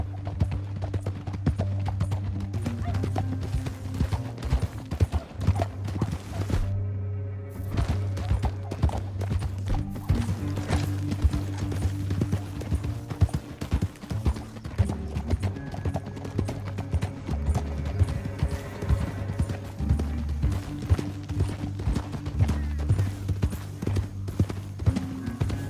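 Horse hooves clip-clop steadily in Red Dead Redemption 2, a rhythmic trotting gait that runs throughout, with occasional snorts and whinnies and a low musical score underneath.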